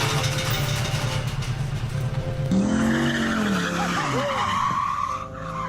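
A car's tires skid and squeal while its engine roars in a long, loud spin, with voices shouting over the commotion.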